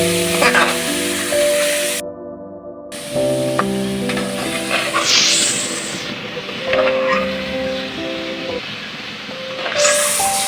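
Achar gosht meat frying in a hot pan, a steady sizzle with sharp spattering bursts throughout, close and loud, with faint clatter of stirring.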